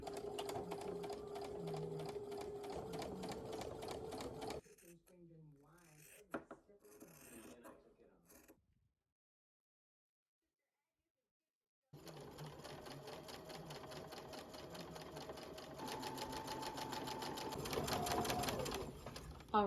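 Sewing machine stitching seams on a pair of dance pants, a fast steady mechanical whirring chatter in close runs with a quieter pause and near silence in the middle before stitching resumes.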